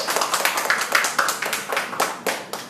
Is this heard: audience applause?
yes